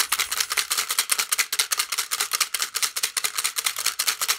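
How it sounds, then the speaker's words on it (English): Small metal paper clips shaken inside a green plastic bottle as a homemade shaker, giving a fast, dense rattling with rapid clustered pulses, steady and close throughout, with no talking. "The paper clips are metal also in the green bottle, but they're little."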